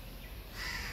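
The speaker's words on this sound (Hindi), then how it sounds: "कौवा बोल रहा है" A crow caws outdoors on a sunny morning in Lucknow, a short call rising over steady low background hum, fairly close and moderately loud near the end of the brief moment.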